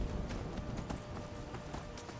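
Horse hooves clip-clop in a quick, even rhythm in Skyrim, steady and moderately close, with no talk over them.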